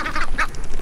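Ducks quack near a pond in a primitive survival setting, a quick burst of two or three loud, nasal calls close by, heard on their own.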